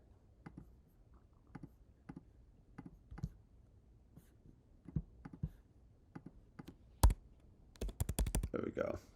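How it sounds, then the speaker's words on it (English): Sparse keystrokes tapped on a computer keyboard, a few isolated clicks spread out, then a quick burst of rapid typing at the end, close and fairly quiet. "let's add in a keyboard in"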